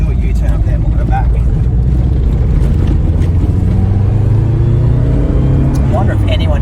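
A Subaru Impreza 22B STi driving on a country road in Australia, a steady low engine and road rumble from inside the cabin, with people talking over it.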